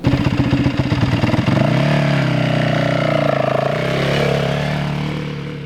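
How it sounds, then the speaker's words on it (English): Dirt bike engine pulling away using clutch and throttle, a loud close chugging idle that smooths into a rising rev as the bike moves off, then gradually fades slightly. "as you start feeling the friction point and the bike starting to jiggle and wanting to go, that's when you roll on the throttle"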